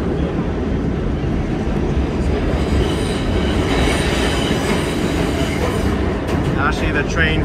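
A New York City subway train rumbles loudly and steadily along the track, with a brief metallic wheel squeal near the end and faint voices in the car.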